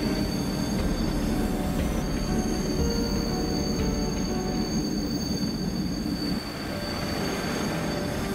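Jayakarta passenger train braking at Cikarang after striking a forklift: wheels squeal in sustained high metallic tones over a continuous heavy rumble of rolling railcars, with no talk.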